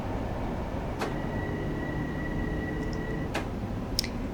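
A train running on the Harlem Line at Harlem 125th in Train Sim World 2, a quiet steady rumble with a faint sustained tone and a few brief sharp clicks and squeals, no voices.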